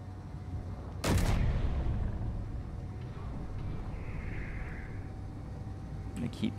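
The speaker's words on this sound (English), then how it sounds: "you've got some big guns shooting at me there" Heavy ship-mounted guns open fire in Space Engineers during a fighter combat test, one sharp loud blast followed by a rumbling decay and a softer burst near the end, over a steady low engine drone.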